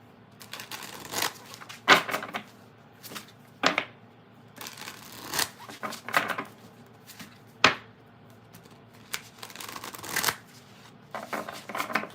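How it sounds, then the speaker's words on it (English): Tarot cards being shuffled by hand in irregular bursts of crisp riffling and slapping, close and fairly quiet, with short pauses between rounds and no talking. "I'm going to be starting Leo here in a moment once I'm done shuffling."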